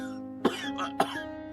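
Two sharp coughs, close and fairly quiet, about half a second apart.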